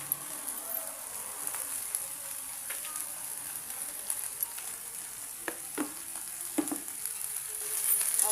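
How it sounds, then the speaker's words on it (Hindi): Eggplant and potatoes fry in a pan with a soft, steady hiss, broken by a few faint clicks and scrapes, fairly quiet and close, with no voice heard. "अच्छे से हमारे बैंगन आलू फ्राई हो चुके हैं"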